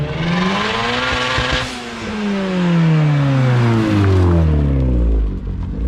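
A Mazdaspeed3 accelerating hard, its engine note climbing through repeated rising sweeps with gear changes, loud and close from inside the car.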